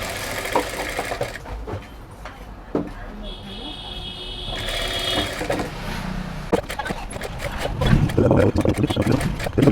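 Sewing machine stitching thread piping onto a blouse, its mechanical whirring running in short bursts while someone talks over it.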